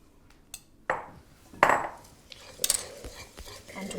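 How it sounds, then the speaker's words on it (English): Soft butter and caster sugar are worked in a bowl with a whisk, giving a few sharp metallic clinks and scrapes against the bowl's sides amid quieter rustling, close and intermittent. "And whisk it until it's pale and fluffy."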